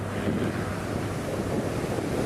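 Gentle sea waves wash onto a beach in Phuket, a soft continuous rush of surf blended with steady wind buffeting the microphone, with no talking.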